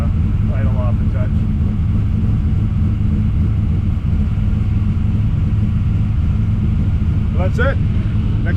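A 427 small-block Chevy with a solid roller cam idles loud and close, a steady deep rumble throughout, with brief faint voices in the background.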